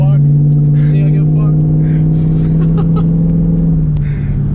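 A Ford Mustang's engine drones loud and close with a steady low rumble that dips slightly near the end, heard from inside the car while voices murmur faintly.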